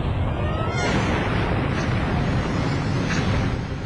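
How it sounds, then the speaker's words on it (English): A sustained, loud roaring blast from rocket debris exploding, a continuous rumbling wash of noise lasting several seconds with no talk. "The heat of the explosion is so intense it melts their windshields and tire rims."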